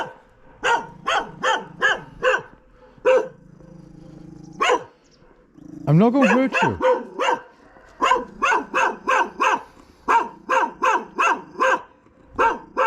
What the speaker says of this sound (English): He doesn't bite at all, but he's just a guard dog, and he likes to bark.